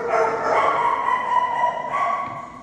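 A continuous chorus of dogs barking and yelping close by, overlapping into one loud, steady din with no clear gaps.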